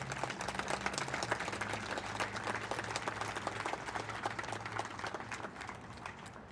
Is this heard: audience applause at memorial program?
yes